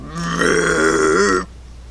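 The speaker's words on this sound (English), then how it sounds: "The toad gave a belch that echoed across the hills" One long, deep, rumbling belch, loud and close, lasting over a second before cutting off to quiet.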